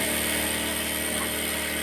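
Sewing machine stitching a fabric ruffle for a pillow, a continuous close mechanical whirring drone that runs steadily without pause and with no talking.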